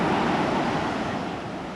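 Rough ocean surf rolling onto the beach at Hard Rock Punta Cana, a continuous broad wash of breaking waves with some wind on the microphone, steady and loud without talk.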